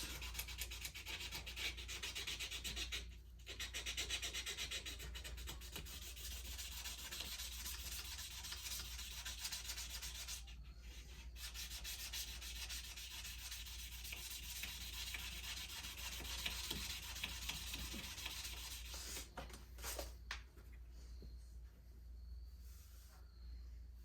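An antler knife handle rubbed with fine sandpaper and oil: a steady, faint, continuous scratchy rasp of back-and-forth sanding with a few brief pauses, no talking.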